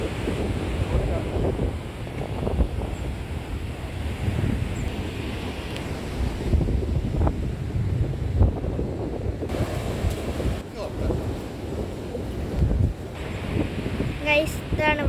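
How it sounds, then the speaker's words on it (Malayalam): Rough sea during a June sea surge near the Chaliyar river mouth, with waves crashing and surf rumbling continuously while strong wind buffets the microphone throughout. "ജൂണ് തുടങ്ങിയത് മുതൽ നമ്മളെ ഇവിടുത്തെ കടൽക്ഷോഭം തുടങ്ങിയിട്ടോ ഗൈസ്"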